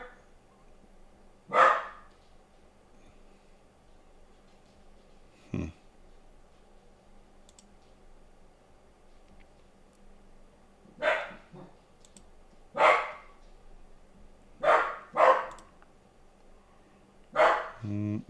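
A dog barks in short separate bursts, a single bark at a time with pauses between, over a quiet background hum.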